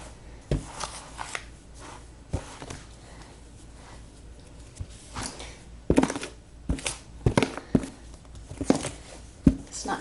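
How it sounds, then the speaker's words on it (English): Eco Earth coconut-fiber substrate stirred by hand inside a tarantula enclosure for a Haplopelma lividum, giving soft scraping and rustling with irregular sharper scoops and thumps, close and fairly quiet, no talking. "Stir it up, just keep stirring it."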